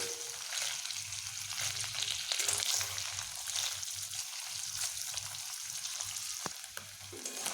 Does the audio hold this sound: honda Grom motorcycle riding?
no